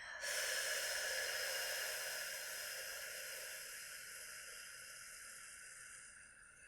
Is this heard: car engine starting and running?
no